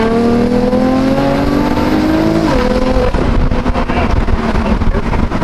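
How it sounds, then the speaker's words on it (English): A BMW M4 accelerates hard, its engine note climbing loud and close through the revs, shifting, then pulling again with a faint tire squeal; no one speaks. "Let's go drive."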